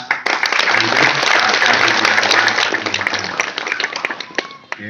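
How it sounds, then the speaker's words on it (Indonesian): Audience applause at a Hindu temple gathering for Ngembak Geni, loud sustained clapping that swells and then gradually thins out toward the end, with crowd noise mixed in. "Tepuk tangan untuk DPK"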